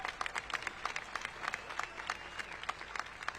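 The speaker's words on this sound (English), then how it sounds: "We applaud every single one of you" Audience members at a high school graduation ceremony applaud, a quiet, distant patter of many hands clapping in a steady scattered rhythm.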